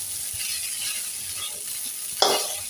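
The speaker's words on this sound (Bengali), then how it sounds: "নাস্তা রেডি করে নিচ্ছি নাস্তা বলতে ভাজা ভাত" Leftover refrigerated rice being stir-fried in a home kitchen for breakfast, giving a constant close sizzle with light scraping that ends in one sudden louder scrape or clatter near the end.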